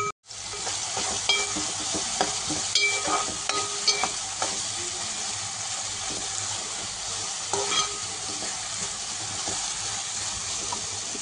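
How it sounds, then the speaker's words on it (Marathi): Chopped capsicum sizzles in a pan for street-style pav bhaji, stirred with scraping clatters of the spoon over a continuous hissing fry, close and steady. "आता याच्यामध्ये मी चॉप केलेली शिमला मिरची घालून देते।"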